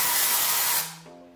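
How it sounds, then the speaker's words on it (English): A short dry shampoo aerosol spray hisses up close for under a second onto a brush, then cuts off, leaving faint ringing tones. "My dry shampoo, I spray it on the brush"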